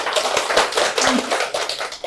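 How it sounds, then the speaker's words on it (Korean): A lecture audience breaks into a short burst of scattered, uneven clapping, light taps overlapping for a couple of seconds in a room. "아, 박수를 치고 싶었어요?"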